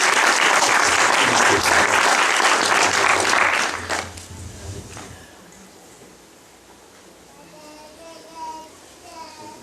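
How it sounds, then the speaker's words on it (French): Loud audience applause at an evening church camp gathering fills the first four seconds, then breaks off abruptly and leaves quiet room noise with a few faint voices. "Est-ce qu'on peut donner une main d'applaudissement à Stéphane?"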